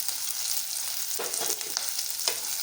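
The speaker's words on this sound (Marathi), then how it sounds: "हे छान फ्राय करायचे कांदा चांगला फ्राय झाला आहे" Chopped onion frying in a pan with green chili, red chili powder, garlic and cumin, a steady broad sizzle with a few sharper stirring scrapes near the middle and end, close and alone.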